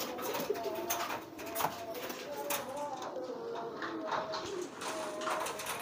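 A pigeon coos softly in its nest, low repeated calls at a moderate distance with faint rustling and background ambience, no clear speech.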